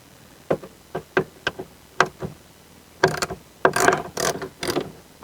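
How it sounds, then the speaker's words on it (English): Ratchet wrench undoing bolts on a Citroen SM parts car, sharp metallic clicks in separate short bursts, then faster runs of ratcheting, close and loud with no speech. "I'm just going to do a few of these bolts and it'll all just come off in my hands"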